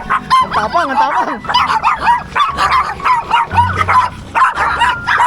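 A dog barks and yips repeatedly at close range along a roadside near Caliraya during a Bajaj RE tuktuk ride, its sharp excited calls coming in quick bursts with some whimpering, over a low vehicle rumble.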